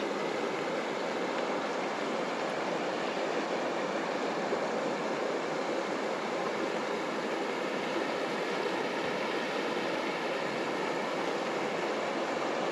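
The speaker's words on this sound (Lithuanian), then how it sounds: "tik tai vienintelis upelis ir daugiau nieko." A small stream flows steadily through a quiet winter landscape in Iceland, a constant soft rushing wash of water with no pauses and nothing else audible.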